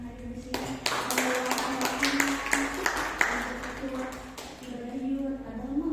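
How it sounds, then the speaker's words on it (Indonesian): A crowd at a youth and teen church service claps steadily for several seconds, with dense, uneven slaps under a sustained voice talking over the applause. "kita tepuk tangan dulu dong buat teman-teman yang hadir di sini"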